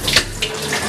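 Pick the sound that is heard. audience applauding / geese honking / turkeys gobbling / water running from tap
water running from tap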